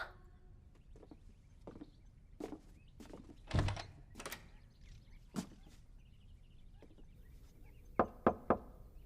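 Knocking on a thin, flat wooden door sounds as sparse, sharp knocks spread through the clip, with a heavier thud near the middle and a quick triple rap at the end, against a quiet room.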